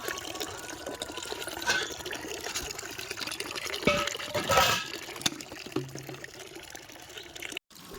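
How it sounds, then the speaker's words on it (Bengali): Water pours and splashes over the brim of a full clay pitcher, a continuous close trickling rush that swells briefly, with a faint voice in the background. "ভরে গেছে, এই যে জল পড়ছে"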